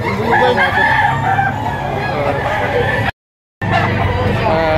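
Roosters crow repeatedly amid a noisy chicken auction in Batangas, overlapping calls mixed with clucking and chatter of a crowd, continuous apart from a brief dropout.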